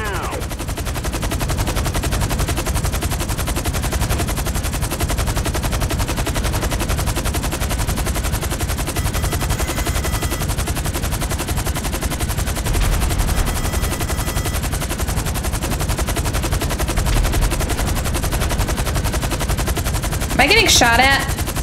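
Rapid automatic gunfire aimed at an aircraft in the video game GTA V, a dense continuous burst that runs loud and steady through the whole stretch, with a brighter crack near the end.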